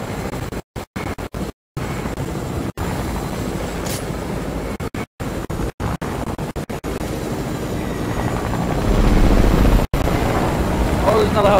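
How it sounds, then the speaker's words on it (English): Helicopter in the video game Fortnite, a steady rotor and engine drone running throughout, growing louder toward the end, with players talking over it. "Another helicopter up here, Xavier."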